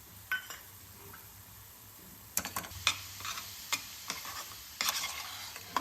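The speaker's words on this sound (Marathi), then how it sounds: "आता हा रवा वरतून टाकून घ्यायचा आणि तोही व्यवस्थित मिक्स करून घ्यायचा" A spoon stirs roasted semolina into a coconut and jaggery filling for karanji in a pan, giving close, irregular scraping strokes and soft scuffs against a quiet background.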